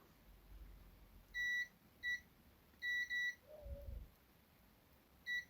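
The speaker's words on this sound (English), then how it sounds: "you should hear 3 beeps or more." Short electronic beeps from a multimeter continuity test on a fused plug's wiring sound in separate bursts, one, one, then two close together, with another at the end, loud against a quiet background.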